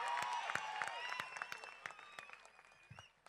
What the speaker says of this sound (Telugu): గట్టిగా చప్పట్లతో 2 చేయిలు ఉన్నోళ్ళు 2 చేతులతో గట్టి కొట్టాలి